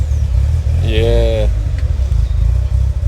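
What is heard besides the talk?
Mitsubishi Evo 8 turbo engine with screamer pipe, in-car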